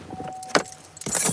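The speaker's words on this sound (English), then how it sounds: "Take them keys out, Jay." Keys jingle and clink nearby in a few brief bursts while a car's chime tone sounds steadily underneath.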